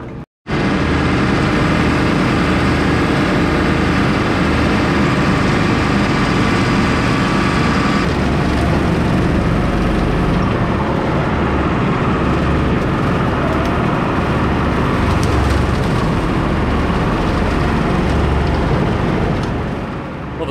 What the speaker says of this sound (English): Stock chopper's on now,